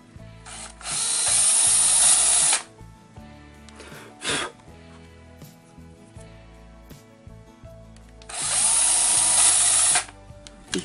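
A power drill boring into a plastic printer ink cartridge whines in two loud bursts, separated by quieter clicks and handling noises, with a short sharp buzz in between.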